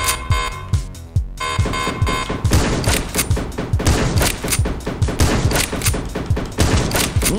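Gunfire in the video game Panic Factory bursts in rapid, loud volleys of repeated shots over a droning electronic tone, with one brief pause near the start before the firing continues steadily.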